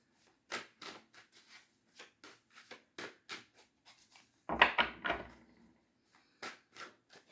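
Soft papery flicks and riffles of oracle cards being shuffled, repeated in an uneven rhythm, quiet and close, with one louder burst midway.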